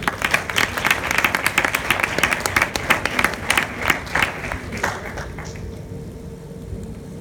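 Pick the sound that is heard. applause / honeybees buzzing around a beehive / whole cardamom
applause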